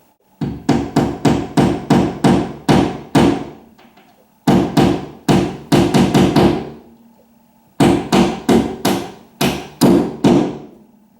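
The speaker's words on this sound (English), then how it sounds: "I just tap a little bit, then remove the tape, and I can tap it in the rest of the way" Hammer tapping small wall picture hangers into a wall to hang a heavy mirror, three close, loud bursts of sharp knocks, each a quick series of six to eight blows, with brief pauses between.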